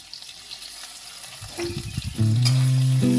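Chopped onion hits hot oil with five-spice in a wok, a steady sizzle building to a louder, fuller frying hiss partway through, with some tonal clatter on top.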